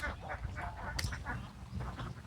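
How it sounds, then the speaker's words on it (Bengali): A flock of free-ranging ducks on a duck farm gives repeated nasal quacks and honking calls, overlapping in quick bursts at moderate loudness, with a steady low rumble of background noise underneath. "আমার পিছনে একটি হাঁসের খামার"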